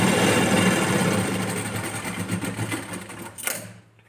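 A sewing machine stitches blouse fabric with a steady, dense mechanical whirring hum close by. It runs continuously, then tapers off near the end, and nobody speaks over it.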